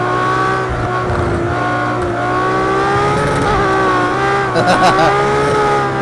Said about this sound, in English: I think the engine sound is a bit more natural.